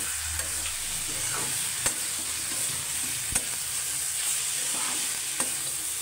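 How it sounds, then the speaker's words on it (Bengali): Red amaranth greens (lal shak) fry in a pan with a steady sizzle, while a spatula stirs them in soft scrapes and a few sharp taps against the pan, close and even throughout. "একটু নাড়াচাড়া দিয়ে দিই।"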